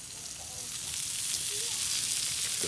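Green peppers sizzle steadily in extra virgin olive oil on a Blackstone 28-inch griddle, a continuous close, bright frying hiss that swells slightly over the clip with no talk.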